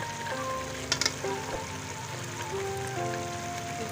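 Peas hiss and sizzle steadily in hot oil in a pan, with a few stirring scrapes and clinks near the start. A voice speaks softly in the background.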